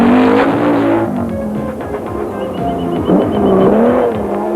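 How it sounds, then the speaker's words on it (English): A Volkswagen Passat rally car racing through sugarcane sections in the 1987 Castrol International Rally, its engine loud and close, revving hard, easing off and climbing again through several gear changes. "the Passat, sounding as strong as ever, leads what is left of the battle behind"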